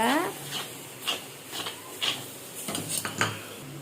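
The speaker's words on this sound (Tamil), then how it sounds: "இப்போது நம்ம குழம்பு மிளகாய் தூளை இதில் போட்டுடலாம். இப்போ நல்லா மிக்ஸ் பண்ணி விட்டுக்கோங்க." A spoon stirs chili powder into catla fish curry in a metal pot, giving a series of close scraping clinks at an uneven rhythm while a voice talks.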